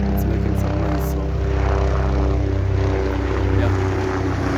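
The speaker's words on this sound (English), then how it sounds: "there's some plane passing by and it's making some noise" Propeller airplane passing overhead, a loud continuous droning hum with steady low harmonics throughout, close and dominant.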